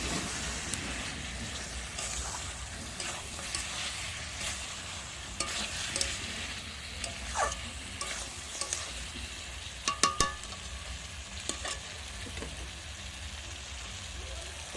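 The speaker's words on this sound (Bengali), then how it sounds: "দিয়ে দিচ্ছি একটা মাঝারি সাইজের কুচানো পেঁয়াজ" Chopped onion and tomato frying in a pan for a Kadaknath chicken curry: a faint, soft sizzling hiss broken by scattered light stirring clicks, with quiet talk at times.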